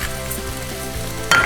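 Peppers and onions fry in a hot pan with a steady, close sizzle, joined near the end by a brief scrape or stir of a utensil against the pan.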